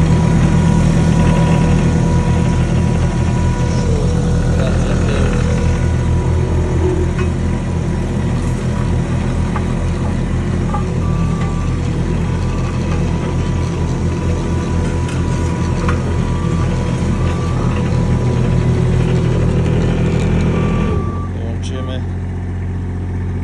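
A Hamm vibratory road roller's heavy diesel engine, with front drum vibration switched on, rumbles loudly and steadily up close with a dense vibrating drone, easing off slightly near the end.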